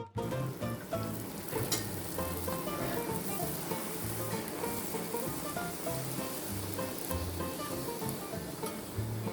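Puris made from stiff wheat dough deep fry in a kadai half filled with hot oil, a continuous close crackling sizzle with faint bubbling throughout.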